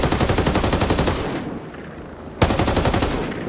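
Loud automatic weapon fire in a first-person video game faction mission played with no HUD, in two rapid bursts split by a short lull near the middle, with no talking.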